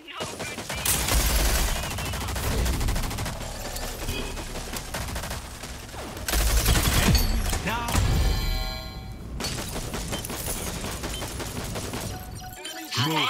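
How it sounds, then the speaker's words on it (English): Enemy gunfire in the video game Rogue Company during a 6v6 multiplayer deathmatch, dense bursts of shots and impacts running loud through the whole stretch, with game sound effects layered on top. "Enemies fire!"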